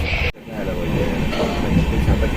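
Steady rumbling rattle of a train rolling along the rails toward Junagadh, with a brief dip near the start before the rumble continues evenly.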